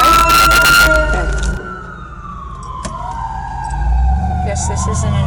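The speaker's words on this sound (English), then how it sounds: "It's probably a fire truck." A fire truck siren wails as it passes, its pitch sliding downward while traffic rumbles loudly at the start and again near the end.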